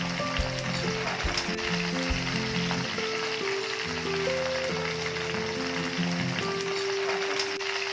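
Green chilies fry in hot oil in a pan, giving a steady, dense sizzle that runs unbroken from start to finish, close and fairly loud, with a low tonal hum underneath and no voices.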